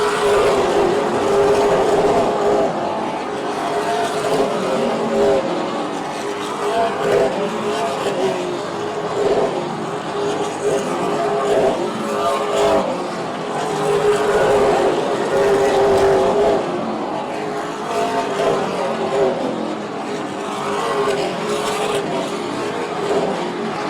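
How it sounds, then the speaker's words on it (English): Super late model stock cars race around a short oval track, their engines roaring and droning loudly without a break, with the pitch rising and falling as they pass and a commentator talking over them. "Hall has stretched his lead out a couple of car lengths over the 29 of Greg Proud"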